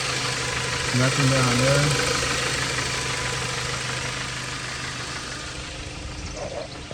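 A Dodge Avenger engine with a newly replaced thermostat housing idles steadily outdoors with a low, even hum, while someone talks briefly over it near the start.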